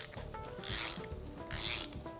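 A reverse-only socket turns out a broken head stud from a Porsche 3.2 engine, giving two loud, rasping metal-on-metal grinding bursts separated by quieter clicking and ratcheting.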